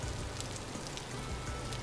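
Rain falls steadily in the survival game Vintage Story, a constant soft patter and hiss with no other sounds.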